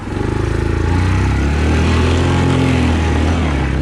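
A 2020 Yamaha Kodiak 450 EPS ATV engine held at full throttle on a muddy trail, a loud, steady, buzzing drone close up that runs without a break and has no talk over it.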